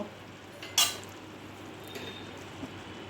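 A pot lid is lifted off during rasmalai cooking, giving one short bright metallic clink near the start, followed by quiet kitchen background and a couple of faint taps.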